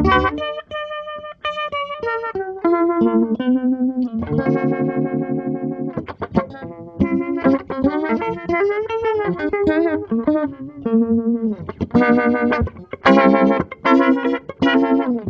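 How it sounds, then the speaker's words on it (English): Electric guitar played through a modulation effects pedal at maximum speed, the tone warbling and auto-wah-like, loud and distorted, with chords and single notes in bursts. "Almost sounds a little bit like an auto wah when it's both the controls are dimed here"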